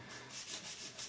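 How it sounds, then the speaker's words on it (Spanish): Dry hand sanding of a workpiece with sandpaper, a steady raspy rubbing in several back-and-forth strokes, fairly quiet and close, with no voices. "cuando lijo en seco"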